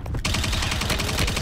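Sustained automatic gunfire in the video game Warzone, a fast, loud, evenly spaced burst of shots starting abruptly and continuing without pause, close and dominant.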